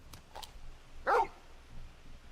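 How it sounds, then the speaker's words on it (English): Dog in the video game Final Fantasy XVI giving a single short, sharp bark near the middle, preceded by faint soft yips or clicks against a quiet, low background. "You're just a big puppy, aren't you?"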